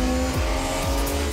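Race car engines hold a loud, steady roar at the finish line, with tones sweeping down as cars pass close by in quick succession.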